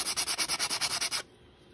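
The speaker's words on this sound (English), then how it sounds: "I can go back in and give it a little clean up with the sandpaper" Sandpaper rubbed by hand over a small part of a Wookiee lip lift mechanism, eleven quick, even back-and-forth strokes close up, then stopping abruptly into quiet.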